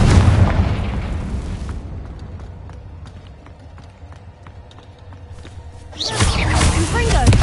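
Confringo blast spell from Hogwarts Legacy, exploding with a loud fiery burst, then fading into a quieter stretch of crackles and pops before a second heavy blast erupts near the end.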